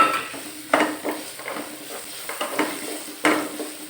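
Sliced large onions fry in hot oil with dried red chillies while being stirred, producing a steady sizzle broken by several scraping, clinking strokes of the spoon against the pan, close and moderately loud without talking.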